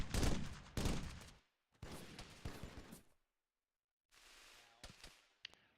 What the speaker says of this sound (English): Wait, are we supposed to be shooting?